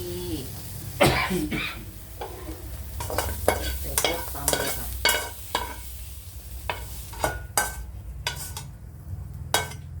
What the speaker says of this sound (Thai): คั่วให้หอมสักหน่อย